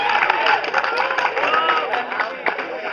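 An audience at a lecture claps together, a steady wash of hand claps that holds at one level throughout, with a few sharper claps standing out.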